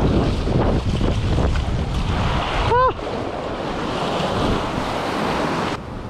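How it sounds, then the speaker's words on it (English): Ocean surf rolling in with the incoming tide along a shoreline, a constant loud wash of waves mixed with heavy wind buffeting the microphone and a short whistle-like voice sound midway. "tide's coming in."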